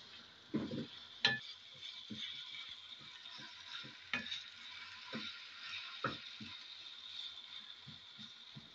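One kilogram of washed minced meat (keema) sizzling in a pan while being stirred, with a soft frying hiss under repeated scraping strokes at an irregular rhythm.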